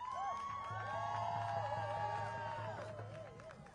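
A crowd of protesters outside the Democratic National Convention in Chicago cheers and whoops, a sustained mass of voices with rising shouts, fairly distant and slowly fading at the end.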